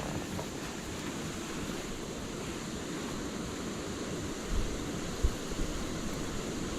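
Steady wind blows across open water among reeds while fishing for crucian carp, a continuous broadband rush with microphone buffeting and a couple of brief bumps near the end.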